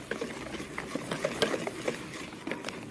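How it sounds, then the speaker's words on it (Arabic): Corn cake batter is beaten by hand in a bowl, giving quick, irregular clicking and tapping strokes that repeat at close range. "اضرب بقى كده في كل المكونات ببعضها"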